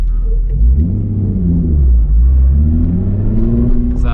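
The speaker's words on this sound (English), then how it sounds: "once you hit that wide open throttle, that's where it gets really loud." A Nissan 350Z Nismo engine at wide open throttle, heard from inside on a night drive, as a loud, deep, continuous rumble with rising and falling revs throughout.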